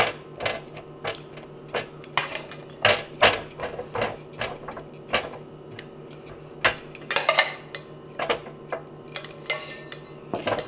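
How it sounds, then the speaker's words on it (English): Parsnip fries are spread out across a metal air fryer tray, making a busy run of sharp clinks, scrapes and clatters with irregular rhythm, close and clear. A faint steady hum runs underneath, and nobody speaks. "We're going to go ahead and spread these out on the air fryer tray."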